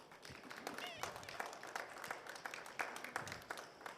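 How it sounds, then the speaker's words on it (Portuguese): A church congregation claps together during a service, a dense, steady patter of many hands filling the space, with voices mixed into the applause. "Vamos aplaudir a palavra de Deus."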